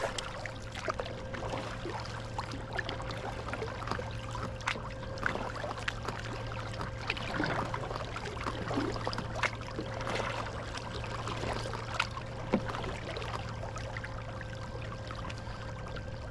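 Quiet water lapping and soft paddle dips around an inflatable stand-up paddleboard fitted with a Hiqmar e-FIN electric motor, a low steady motor hum running underneath the gentle splashes and trickles.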